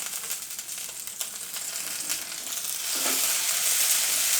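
Onion and ginger-garlic paste frying in a pan make a continuous close sizzle with light stirring, growing louder toward the end, with no talk.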